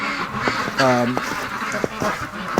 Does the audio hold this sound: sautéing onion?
no